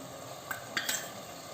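Mutton liver fries in a pan with a soft, continuous sizzle, punctuated by a few light metallic clinks of a spoon against the pan.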